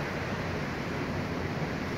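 Churned-up ocean swells and surf driven by a hurricane off the coast at Sayulita, heard as a steady, dense roar of breaking waves mixed with wind, continuous and even throughout with no voices.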